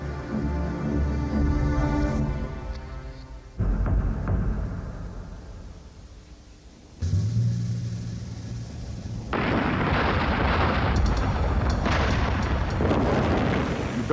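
A Hollywood special-effects building explosion rigged with gasoline mortars behind every window: several heavy booms, each followed by a long, rumbling roar and debris noise that fades before the next blast hits.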